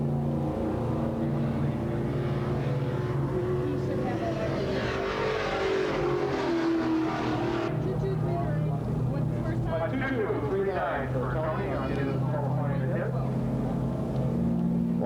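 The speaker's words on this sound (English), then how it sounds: "That's Tony Posada out there driving the Outlaw, the Zero car." Race cars roar around the track at Altamont Raceway during a 1983 memorial race, their engines a loud, continuous droning blend that rises and falls, with voices talking over the din.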